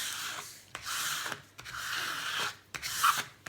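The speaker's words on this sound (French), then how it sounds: "pourquoi je frotte mon DP avec ma coupelle, c'est pour retirer l'air qu'il y a en dessous" A small cup rubbed firmly across a diamond painting, producing several long, close scraping strokes with brief pauses between them, steady and moderately loud with no talking.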